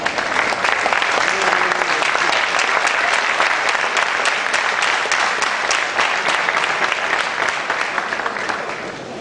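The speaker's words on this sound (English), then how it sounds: "That applause was rather long." Long, sustained applause from a lecture-hall audience at an academic event, loud dense clapping that holds steady for the whole stretch and tapers slightly at the end.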